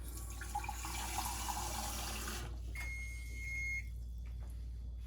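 Tap water runs steadily into a cup in a home kitchen where spaghetti and meatballs are simmering, a close rushing hiss that cuts off midway, followed by a short electronic beep.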